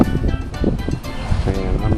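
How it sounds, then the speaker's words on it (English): Wind buffets the microphone outdoors beside a wood-fired smoker, a steady loud rumbling roar with gusty swells and no pauses. "A little breeze here. Sorry for the noise."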